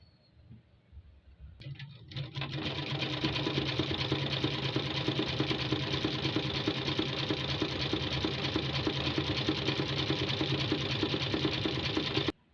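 Sewing machine running a continuous seam along the flared skirt of a simple frock: a steady, fast mechanical whir and rattle that starts after a couple of quiet seconds and holds at an even, close level until it stops abruptly.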